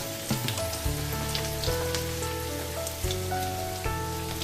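Chopped onion and garlic hitting hot oil with fried whole cumin seeds, a steady dense sizzle and crackle throughout, close and fairly loud, with no talking.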